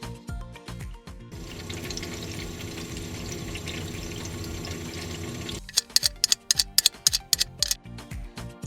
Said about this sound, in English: the fridge can sometimes produce a boiling or gurgling sound